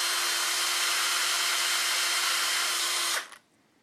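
WD-40 sprays into the float-needle area of a Honda Express NC50 moped carburetor: a loud, steady hiss lasting about three seconds that cuts off abruptly.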